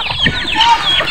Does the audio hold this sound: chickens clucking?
yes